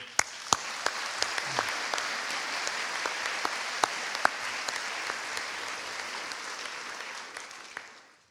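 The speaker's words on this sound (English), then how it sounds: "we applaud you all who are all around you today" Applause from the audience at the Kingston WritersFest opening, quiet and somewhat distant, with scattered sharper claps standing out over a steady patter that fades toward the end.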